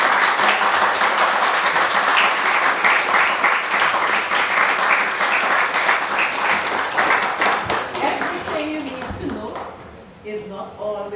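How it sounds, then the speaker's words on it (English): An audience claps for a presenter at a National Trust presentation on whaling in the Eastern Caribbean, loud sustained applause that fades toward the end as a voice begins speaking. "He deserves a round of applause."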